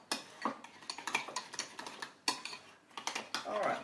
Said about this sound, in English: I'm going to add about another 1/4 tablespoon of honey, and then just mix that together